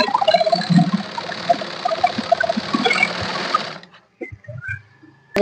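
A sewing machine stitches an aari work blouse in a steady, loud continuous whir for nearly four seconds, then stops abruptly, leaving a few faint clicks and handling sounds.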